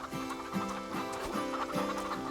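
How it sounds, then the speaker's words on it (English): Chickens cluck repeatedly in a quick, regular rhythm over a busy synthetic background, looping game sound effects from the farming video game Farm Together. "you can also see that they have rather a lot of chickens in here"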